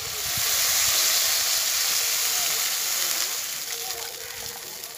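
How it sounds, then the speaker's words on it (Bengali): Water poured into a cooking pot with turmeric in it, a continuous close hissing splash that swells quickly and then slowly eases off, alone without talk. "এবারে আমি জল দিয়ে দেব।"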